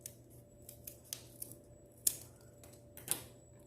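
Scissors snip through a brown paper bag being shaped into paper flowers, a string of short, crisp cuts spaced irregularly, two of them louder and sharper, heard close up and alone over a faint steady background hum.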